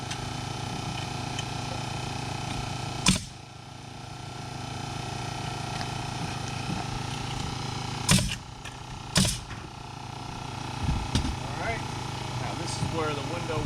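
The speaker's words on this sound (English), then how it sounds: "Just got even louder because the compressor kicked on." A workshop air compressor runs steadily as a loud continuous drone under intermittent talk, broken by a few sharp bangs and knocks.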